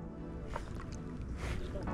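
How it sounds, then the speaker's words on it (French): A small fishing boat's motor runs at its lowest speed setting, a low, steady hum close by, with water lapping and light splashes over it. "je vais tester le moteur"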